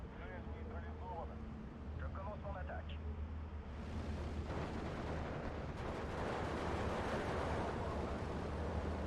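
Mortar rounds burst in Steel Division 2 as rolling, rumbling explosions that swell into a dense, continuous roar with a few sharper blasts. A low voice sits faintly underneath near the start.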